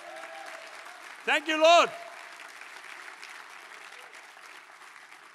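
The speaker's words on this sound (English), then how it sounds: "let's give the Lord a clap, please." An audience claps steadily at a 2019 gospel concert. The dense applause runs under a man's short spoken phrase and continues at an even level after it.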